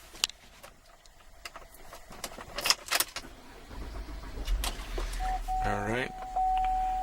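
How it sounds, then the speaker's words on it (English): Keys jangle in a 2011 GMC Acadia SLT SUV before its engine cranks and catches, settling into a quiet, steady idle while a chime sounds inside the cabin. "let's go ahead and turn on the car."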